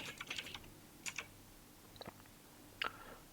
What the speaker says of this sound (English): by typing flip